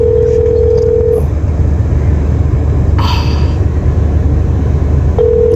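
An outgoing phone call rings from inside a moving hire car. A steady ringback tone sounds briefly, pauses, then returns, over constant low road and engine rumble, with no speech.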